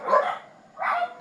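Dogs give two short, sharp barks about half a second apart, close by and fairly loud, with no voices.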